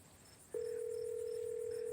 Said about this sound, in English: Stella pulls out her phone and dials.